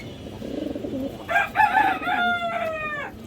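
Giribaz pigeons cooing close by, a soft low bubbling coo followed by a louder, harmonically rich call with a couple of rising and falling phrases.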